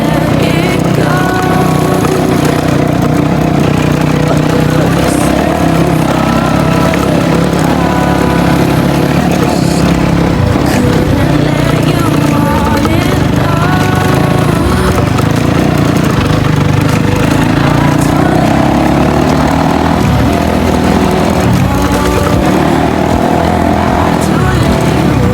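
An illegal dirt bike misfiring during nonstop wheelies runs loud and continuous for the whole stretch, its engine droning and sputtering up close with faint voices beneath it.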